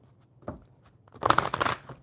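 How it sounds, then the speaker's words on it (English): Enchanted Map oracle card deck being shuffled by hand, a brief soft riffle early on followed by a louder, denser burst of papery flutter and slaps near the mic, no talking. "I'm going to continue to shuffle the Enchanted Map deck"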